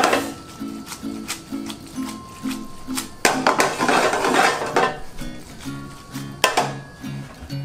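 A spoon scrapes and clinks against a cooking pot while grated parmesan goes into simmering pasta. Light metallic taps and stirring clatter sit over a steady kitchen hum, with a busier burst in the middle.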